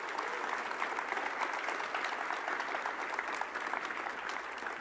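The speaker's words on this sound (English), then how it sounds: "So again, really big round of applause for Stefan." Conference audience at a tech event applauding after a talk: steady, moderately loud clapping from a roomful of people, continuous for several seconds without speech.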